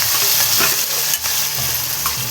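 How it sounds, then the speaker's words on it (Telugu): Tomatoes frying in a pan after the base has been fried for a paneer curry, a dense close sizzle with continuous stirring and scraping, no talking. "కొంచెం ఫ్రై అయినాక ఇప్పుడు టమాటోలు అయితే వేసుకొస్తున్నాం."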